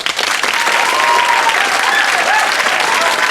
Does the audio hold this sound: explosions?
no